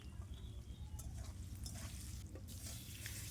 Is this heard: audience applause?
no